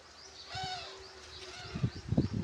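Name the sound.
bird calling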